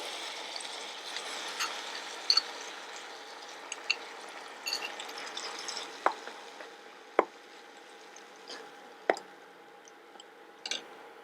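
Cooked moong dal being stirred into fried rava for pongal, with a quiet, steady background hiss and occasional sharp spatula knocks against the pan.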